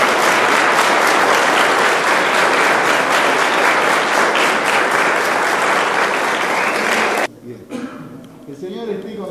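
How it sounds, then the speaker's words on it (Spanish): A church congregation breaks into loud, sustained applause at a confirmation Mass, dense clapping for about seven seconds before cutting off abruptly into a quieter room with faint movement. "Así que les pido un aplauso para él."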